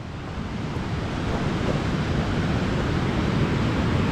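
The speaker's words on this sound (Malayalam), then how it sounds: "അങ്ങനെ നമ്മൾ വെള്ളച്ചാട്ടത്തിൻ്റെ അവിടെ എത്തിയിരിക്കുന്നു." A waterfall roars as a steady, dense rush of falling water, loud and close, growing slightly stronger and continuing unbroken with no voices.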